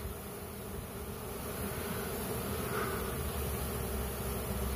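Honeybee swarm fanning and flying near a hive, a dense, steady, continuous buzzing hum at moderate loudness with no voices.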